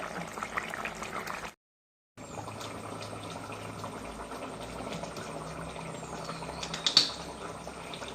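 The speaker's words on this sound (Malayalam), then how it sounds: "അങ്ങനെ മീൻ കറി വെന്തുകൊണ്ടേയിരിക്കുന്നു" A pot of fish curry simmers on the stove, producing a faint, steady bubbling that briefly cuts out and then resumes, ending with one small sharper pop.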